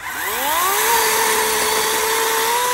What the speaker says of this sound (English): this is his first time using a cordless chainsaw